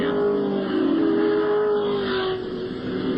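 Group C race cars, among them a Ford Falcon, roar down the main straight at the 1984 Australian Grand Prix at Calder Park, a loud sustained engine drone whose pitch shifts slightly as they pass.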